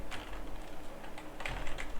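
Computer keyboard typing during a database tutorial, a quick run of light, close clicks and taps in uneven bursts, fairly quiet and alone with no voices.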